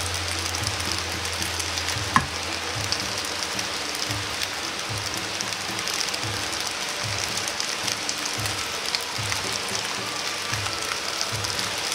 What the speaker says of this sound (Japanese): また表面が焼けるまで放置します